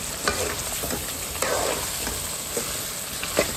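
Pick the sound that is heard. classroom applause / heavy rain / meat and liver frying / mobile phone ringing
meat and liver frying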